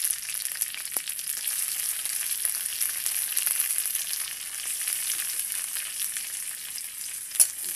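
A steady high sizzle of mixed nuts, cashews and raisins frying in a little ghee, with a few soft stirring knocks and a single sharper clink near the end.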